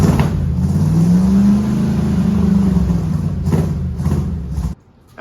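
A 1970 Dodge D200 pickup engine revs loudly through a freshly built exhaust, its deep low rumble swelling and easing for several seconds before cutting off abruptly near the end.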